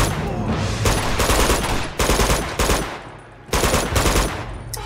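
Dense bursts of machine-gun fire from the video game Uncharted 2: Among Thieves come in loud, rapid volleys with brief gaps between them, close and dominant.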